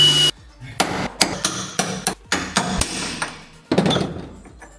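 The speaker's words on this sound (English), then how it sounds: "I just get a hammer and chisel and knock it out" Sharp metallic hammer blows strike a chisel knocking out metal on a race car, an irregular series of about ten loud knocks, close by, with ringing clangs between hits.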